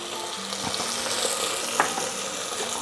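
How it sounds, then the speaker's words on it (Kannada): Masala and ginger garlic paste frying in a pan while cooking egg biryani, a steady close sizzle with a few faint stirring scrapes and clinks over it. "ನೀವು ಮಸಾಲ ಪದಾರ್ಥನ ಹಾಕಿದ ಮೇಲೆ 2-3 ನಿಮಿಷ ಈ ರೀತಿ ಫ್ರೈ ಮಾಡ್ಕೋಬೇಕು"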